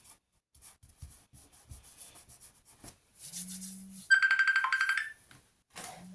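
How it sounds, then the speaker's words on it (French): A phone rings in a series of rapid electronic trills, fairly close and clear, after a stretch of soft rubbing and sanding noises from scrapbooking work at a table. "c'est le téléphone qui sonne"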